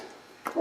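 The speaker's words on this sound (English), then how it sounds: "Now you can hear my dog barking" A dog barks behind a closed garage door, a short muffled outburst of a few yips and barks near the end of a quiet stretch, faint and somewhat distant.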